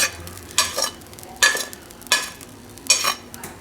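Fried pulao mixture of rice is stirred and scraped in a rice cooker, four distinct scraping strokes at a steady rhythm over a soft background sizzle, close up and without speech.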